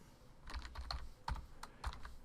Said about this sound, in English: So I get a box where I could type in here my name